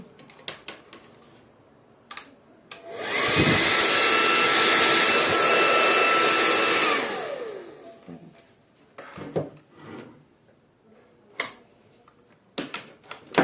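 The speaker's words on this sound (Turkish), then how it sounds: "Bu fön çekme başladı." A King Malin KSK434 2300-watt hair dryer blows steadily at close range for about four seconds, then winds down, with scattered clicks and handling knocks before and after.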